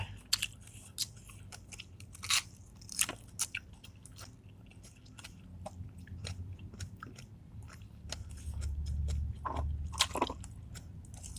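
Someone eats fried chicken and crispy fried snacks with chili dip, loud close crunches and bites popping out in irregular bursts over quiet, moist chewing.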